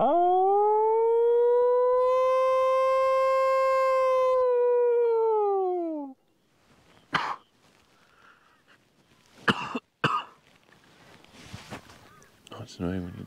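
A person imitates a wild dog howl, one long sustained rising-and-falling note lasting several seconds, followed by quieter rustling, a few sharp knocks and faint sounds outdoors.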